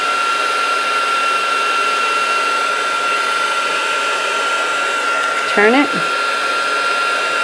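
A heat tool whirs in a steady, loud drone as it dries a watercolor flower background, with a brief voice cutting in near the end.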